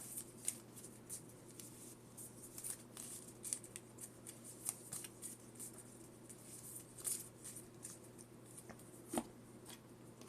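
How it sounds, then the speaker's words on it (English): A Pokemon TCG card deck is cut and shuffled on a table, producing soft, repeated riffling and snapping clicks at close range, quiet and irregular. "then we're going to go and cut and shuffle"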